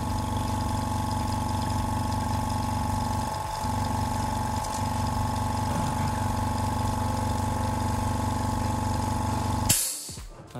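A cheap, supposedly ultra-quiet air compressor runs with a steady, loud mechanical hum and drone for about ten seconds, then cuts off abruptly near the end.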